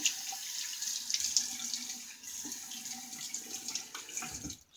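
A water tap runs steadily into a sink while a razor is rinsed under the stream, with a hissing splash that shifts slightly as the blade moves and cuts off abruptly at the end.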